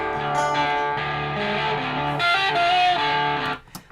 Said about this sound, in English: You can hear this electric guitar comes in.